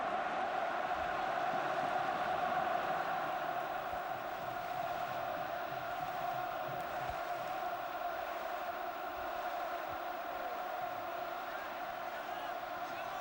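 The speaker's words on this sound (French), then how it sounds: "le parc applaudit son meilleur buteur, Pedro Paoletta" Stadium crowd at the Parc des Princes applauds Pauleta during his last PSG match against Saint-Étienne in the 2007/2008 season, a steady, distant wash of clapping and roaring with a commentator talking over it.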